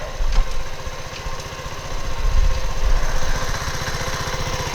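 A 125cc motorcycle engine running steadily after a push start, a close, loud, even idle chug that swells slightly midway, with no talking.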